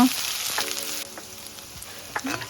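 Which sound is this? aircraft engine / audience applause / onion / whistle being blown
onion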